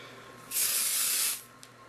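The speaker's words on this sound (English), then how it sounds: "and you're going to spray it." Dry shampoo bursts from a shaken aerosol can in one steady, close hiss lasting about a second, then cuts off cleanly into quiet.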